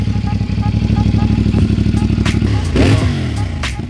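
A CF Moto 450MT motorcycle with its stock exhaust idles close by, a loud, steady, even thrum with a slight swell near the end, and a voice talks briefly over it.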